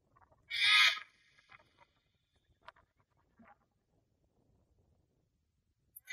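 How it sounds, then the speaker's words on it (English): An emperor penguin gives a single loud, tonal call lasting about half a second, followed by near silence with a few faint ticks. "Emperor penguin."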